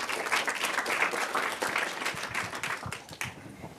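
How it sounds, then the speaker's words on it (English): A crowd at an AI gathering at Google in New York City claps steadily to welcome a presenter, a full, even round of applause that thins out slightly near the end. "Big round of applause."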